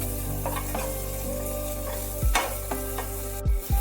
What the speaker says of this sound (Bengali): গাজর আর ক্যাপসিকামটা ভাজা হচ্ছে